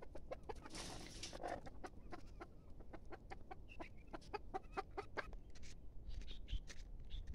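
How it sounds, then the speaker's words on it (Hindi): Farm chickens in Saudi Arabia clucking close by, a string of short repeated clucks in uneven rhythm over a quiet background, with some faint distant bird calls near the end. "सऊदी अरब में अच्छी अच्छी मुर्गी है"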